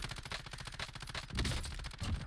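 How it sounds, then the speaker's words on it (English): Bursts of rapid gunfire in a battle royale game, a fast, dense rattle of shots that grows heavier partway through, fairly loud with no speech. "I see some shooting out here."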